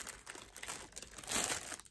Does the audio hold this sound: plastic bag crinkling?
yes